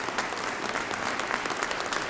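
An audience at an Indiana State Police graduation ceremony applauds the flag, dense steady clapping filling the whole moment with no voices over it.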